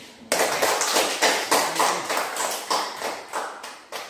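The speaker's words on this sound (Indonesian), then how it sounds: "mari kita beri aplaus buat teman Dido ini" Classmates applauding a student who steps to the front of the room, a group of close hands clapping in a steady, even rhythm that starts abruptly and carries on to the end.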